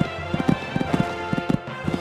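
A video-game horse gallops out of the start box at a Kentucky three-day eventing course on a sunny day, its hoofbeats landing in quick, regular clip-clop pairs over a steady background hum.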